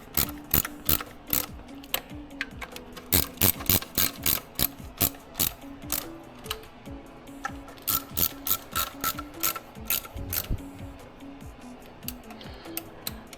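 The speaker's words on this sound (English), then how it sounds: "Now I'm using a 1/4 inch extension and a 1/4 inch ratchet handle with a 1/4 inch socket" A 1/4 inch ratchet handle with extension and socket tightening engine bolts on a Chrysler Town and Country, producing close, crisp clicking bursts in repeated strokes with short pauses between them.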